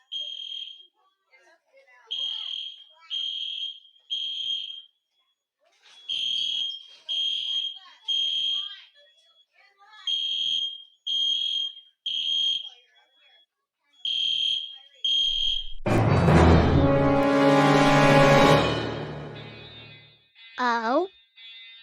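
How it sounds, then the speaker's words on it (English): A building fire alarm at the Wetzel Center beeps loudly in repeated groups of three shrill tones, then a voice cuts in loudly near the end. "Why is the Wetzel Center fire alarm going off?"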